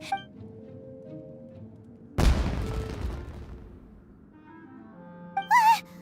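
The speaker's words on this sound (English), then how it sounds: "It sounded like fireworks." A single loud, close firework-like explosion in the video game Genshin Impact bursts over quiet ambient game music and decays for about two seconds, followed by a brief chirping sound effect near the end.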